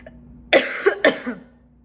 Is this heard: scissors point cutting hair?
no